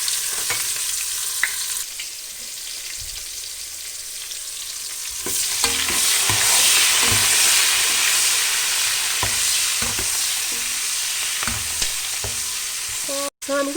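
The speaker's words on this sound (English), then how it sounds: "I'm gonna use the same oil that I use for frying the meat" Stew base sizzling in hot oil left over from frying goat meat, a steady crackling fry that grows louder and busier partway through, with occasional stirring clinks and no talk.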